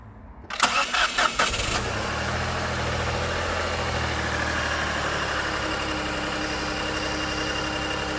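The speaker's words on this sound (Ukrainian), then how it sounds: "А ну запусти двигун!" A Nissan Rogue T33 1.5 KR15DDT engine cranks briefly with a stuttering starter, then catches and settles into a steady idle that continues to the end.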